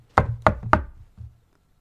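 Three sharp, evenly spaced knocks on a door ring out, followed by a softer fourth thud, with no voices around them.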